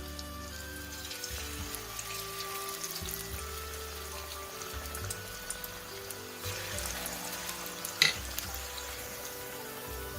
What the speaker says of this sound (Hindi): चलिए अब मैं पकौड़े फ्राई कर रही हूँ।